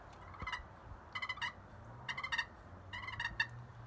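A Buck Baits Game Day slate friction pot call worked for turkey sounds, giving four short bursts of soft rolling purrs and clucks, close and clear over a quiet background hum.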